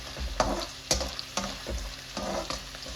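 Ingredients for methi chicken fry in a pan with a constant sizzle, broken by several sharp clanks and scrapes from stirring at irregular intervals, close up and with no voices.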